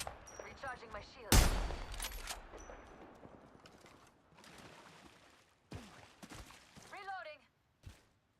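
Video game gunfire: one loud, sharp blast followed by a decaying rumble, then scattered quieter shots and mechanical clicks, mixed with game sound effects.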